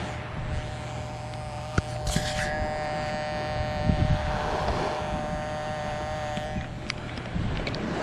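A steady electronic hum drones continuously from a Minelab Excalibur metal detector's threshold tone, with faint clicks and rustling handling noise nearby.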